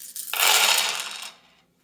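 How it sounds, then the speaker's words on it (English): A brief, bright clattering rattle as a handful of small hard rune pieces are tossed and settle onto a surface, close up, then it goes quiet. "when I throw these runes"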